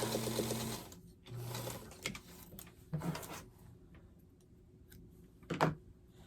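A sewing machine stitches Christmas quilt star pieces in several short runs of fast mechanical whirring, separated by quiet pauses and small clicks, close and fairly soft.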